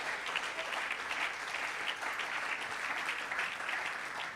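A church congregation claps steadily during a worship service, a dense, continuous wash of hands at even loudness with no talk over it.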